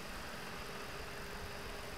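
A tractor engine idles in the Farm Expert 2017 farming simulation game, a continuous, even, low mechanical drone that holds steady throughout with no voices.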